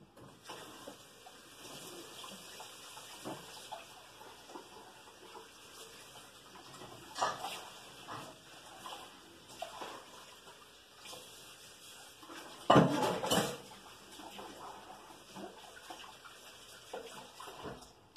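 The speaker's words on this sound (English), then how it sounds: "Let me wash my hands." Tap water runs into a sink as someone rinses oily hands while preparing Lammas bread, a steady close splash with brief louder bursts, birds cooing faintly in the background.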